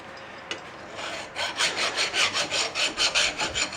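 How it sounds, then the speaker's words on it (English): A hand file works over burrs around bolt holes on a metal mill attachment, giving a steady run of rhythmic rasping strokes, about ten in quick succession after a brief scrape and a short pause, close and fairly loud. "seeing if there's any burrs still sticking up around the holes, taking those off basically"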